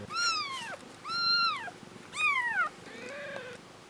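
Days-old newborn kittens meowing, four high thin cries in a row, each rising then falling, close and fairly loud with brief pauses between.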